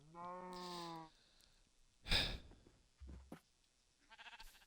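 A Minecraft sheep gives one clear, drawn-out bleat up close, followed by a sharp burst and scattered clicks and rustles of game noise, with no one speaking.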